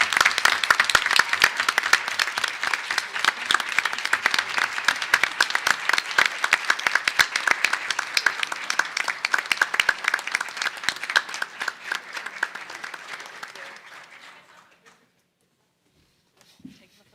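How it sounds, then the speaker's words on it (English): A room at a regular meeting gives honoured teachers a long, brisk round of applause, dense clapping that tapers off and stops, followed by near silence. "If we could just give one more round of applause"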